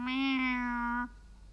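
A single drawn-out cat meow, clear and fairly close, about a second long, followed by quiet.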